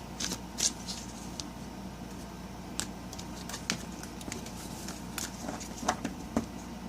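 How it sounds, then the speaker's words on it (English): Tarot cards cut and shuffled by hand at close range, a run of soft papery riffles and light taps spread unevenly across the stretch over a steady low background hum. "I'm going to cut the cards here."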